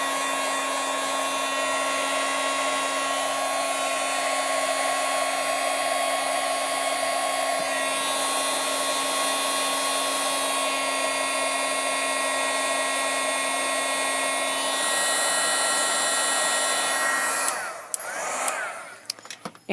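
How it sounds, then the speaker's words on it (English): A heat tool blowing hot air over a masked get-well card, a loud steady whirring, whining hum held for most of the stretch before it cuts off with a few handling knocks at the end. "I'm going to hit this with the heat tool."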